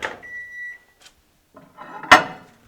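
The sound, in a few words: microwave oven running and finishing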